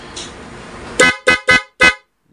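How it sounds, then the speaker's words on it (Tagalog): Honks from a newly installed loud aftermarket dual horn on a car: four sharp, very loud blasts in quick succession, the first slightly longer, then abrupt silence. "Pag hinay nyo po siya mga idol ay yung loud horn na po yung tutunog, yung PIA."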